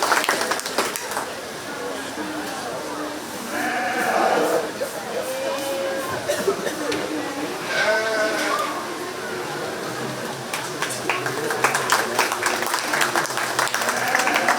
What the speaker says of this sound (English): Let's give all the young people that have competed today one more big round of applause for their efforts.